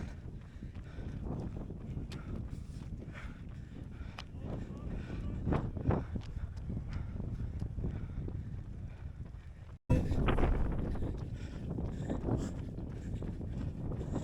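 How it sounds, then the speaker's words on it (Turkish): Steady headwind buffets the microphone during a half marathon run, a low rumbling roar cutting out for a split second before returning just as strong. "Rüzgar kafadan esiyor."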